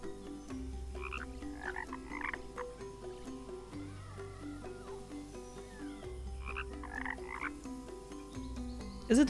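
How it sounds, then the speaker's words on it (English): Frogs croak in the video game Kena: Bridge of Spirits, repeated rhythmic croaks in a steady pattern over a soft ambient musical bed, close and clear. "Is it the order in which the frogs are croaking or something?"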